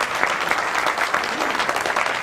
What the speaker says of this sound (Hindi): एक बार उनके सम्मान में ताली बजाइए